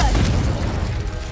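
Fiery spell blasts in a wizarding video game erupt as a deep, booming explosion that fades over about a second, loud and close.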